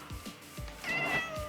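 A cat meows inside a Minecraft game, a few short game-style mewing calls against soft background tones, close and clear with no talking.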